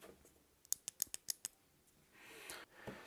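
A small button under the top of a joystick on a homemade wind-instrument prototype is pressed repeatedly, giving a quick series of crisp, faint clicks, then soft handling noise.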